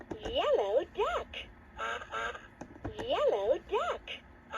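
A Leapfrog Fridge Farm magnetic toy (2007 version) plays a recorded duck quacking in repeated bursts, tinny and electronic through a small speaker, close and fairly quiet.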